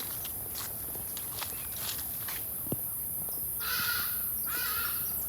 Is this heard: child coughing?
no